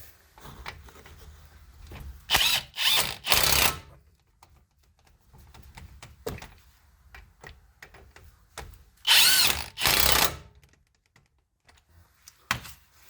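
Power drill or impact tool tightening wheel lug nuts on a 2014 Lincoln MKX during a front brake replacement, giving two loud clusters of short whirring bursts separated by quiet handling noises.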